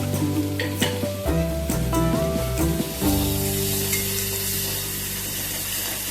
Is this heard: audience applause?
no